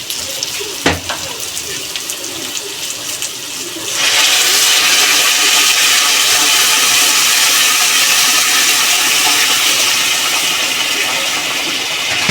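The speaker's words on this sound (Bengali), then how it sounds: "এখন গরম জল দিয়ে দিব।" Hot water pours steadily into a pan of oil-fried spices and potatoes while cooking fish-head muri ghonto, a loud continuous rushing hiss that starts suddenly after a few seconds of quieter kitchen sounds and runs to the end.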